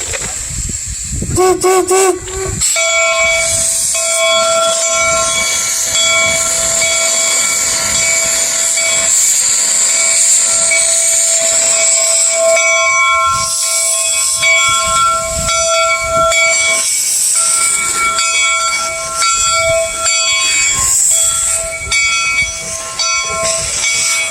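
A loud steam whistle blasts in a long sustained tone over continuous hissing steam, with rhythmic chuffing and clanking of the nearby locomotive Jupiter at Golden Spike National Historical Park, Utah; a voice speaks briefly.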